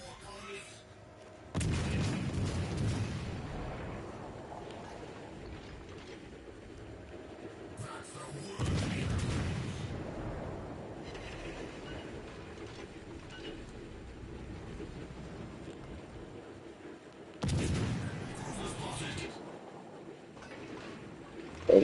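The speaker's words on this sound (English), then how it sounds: "Get close enough to where you can shoot that Iowa" Naval gunfire in a warship video game, aimed at the battleship Iowa: three heavy booming salvos spaced several seconds apart, each a sudden loud blast decaying into a long rumble, with quieter engine noise between.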